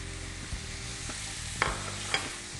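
Finely chopped garlic sizzles in hot olive oil, a steady soft frying hiss with a couple of small clicks and pops, close and fairly quiet, with no talking.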